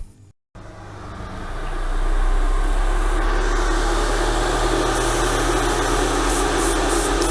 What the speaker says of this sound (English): So it's on with the fan again.